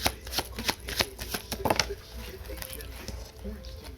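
Tarot cards are shuffled close by in a quick, papery riffle of soft flicks and slaps that thins out after a couple of seconds, while a voice speaks over it.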